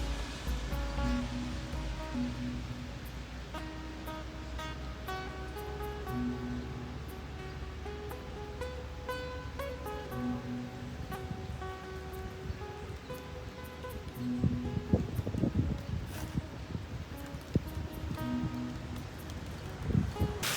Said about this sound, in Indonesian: Nampaknya semakin deras ya hujannya teman-teman.